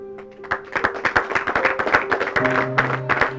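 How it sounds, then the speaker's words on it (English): A school audience bursts into applause for a student who represented the school at a debate, with dense, loud clapping running steadily throughout with a faint tonal hum beneath. "Clap for him very well."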